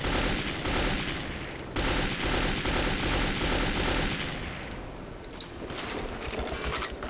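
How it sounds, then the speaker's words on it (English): Rapid automatic gunfire from an enemy in Metro 2033 rattles in long continuous bursts, loud and close, with a brief pause before the volleys resume and thin out toward the end. "there is a dude up there firing at me"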